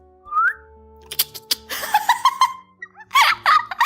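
A brief breathy whistle attempt is followed by bursts of giggling and laughter, with a squeaky voice sound near the end, close and fairly loud.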